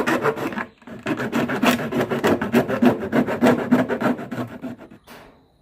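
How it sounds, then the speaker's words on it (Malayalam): Rough rasping cutting of a container's top to make a flower pot, a steady run of rhythmic strokes, close and fairly loud, stopping briefly near the start and fading out at the end. "ആദ്യം പാത്രത്തിൻ്റെ മുകൾ ഭാഗം വീഡിയോയിൽ കാണുന്നത് പോലെ മുറിച്ചു മാറ്റൂ"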